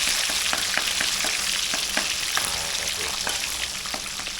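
Fish frying in a pan on a charcoal stove, giving a steady, dense sizzle and crackle that holds at an even level throughout, with a few faint clinks over it.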